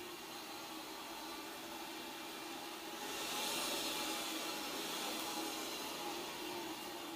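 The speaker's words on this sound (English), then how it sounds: "I rewired the motor in order to have reverse now. Here's forward" A rewired electric motor runs forward with a steady, broadband whirring hum that swells slightly in loudness midway and holds, heard close with no talking.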